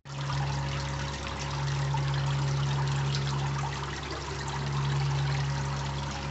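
Water running steadily into a shop aquarium tank, a constant, close splashing trickle with a low electrical hum beneath it and no voices.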